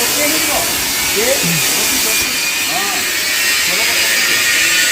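A steady, loud frying hiss comes from welding the ring of a ring roaster machine in a factory workshop, continuous and close, with someone talking over it throughout.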